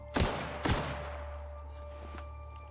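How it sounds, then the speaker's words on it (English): Two sharp gunshots ring out in The Outer Worlds video game, loud and close about half a second apart, followed by a fading tail and a faint later clatter. "and we're gonna shoot him"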